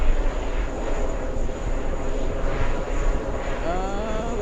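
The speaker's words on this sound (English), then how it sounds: "the next one coming in on 22 left, we have a Delta 767" A Delta Boeing 767 airliner arriving from Paris descends toward runway 22 left, its engines a steady, broad roar heard from a distance that holds for several seconds without a break.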